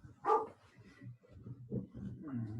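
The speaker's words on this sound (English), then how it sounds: "barks at people who pick up their vegetables" A pet dog barks at people collecting vegetables at a neighborhood drop-off site, giving one sharp nearby bark followed by lower grumbling whines and yips.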